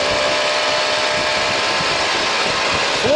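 An electric motor fitted to a Dnepr motorcycle, pulling away in first gear with gentle throttle: a steady, loud high-pitched whine and hum runs close and unbroken throughout, with no voices over it.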